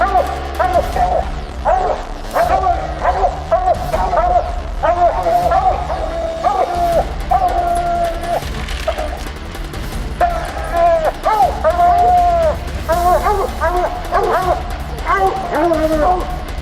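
A dog tied back outdoors barks, yips and whimpers constantly in close, loud, rapid bursts with excited whining tones throughout.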